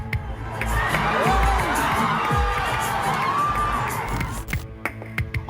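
Fans cheer and shout for a screen idol at a crowded event, a dense, sustained roar of voices and whoops with children's shrill shouts, steady throughout before thinning slightly near the end.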